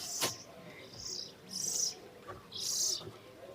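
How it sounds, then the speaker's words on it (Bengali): Several sharp bird chirps and calls ring out in bursts with short gaps, some close and loud, inside a zoo aviary at Al Ain Zoo, UAE, over a quiet room-like background. "খাঁচার মধ্যে ঢুকে গেছি পাখির খাঁচা হয়তো এর মধ্যে অনেক ধরনেরই পাখি আছে"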